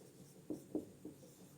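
Three soft, brief scratching strokes of writing on a board during a physics lecture on the Biot-Savart law and Lorentz force, evenly spaced over a quiet room hum, with no talking.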